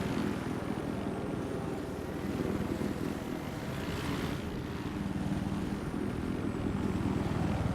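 A helicopter in the video game Battlefield 4 flies with a continuous, loud rotor drone and engine roar, a thick steady rumble with a faint high whine on top and no pauses throughout.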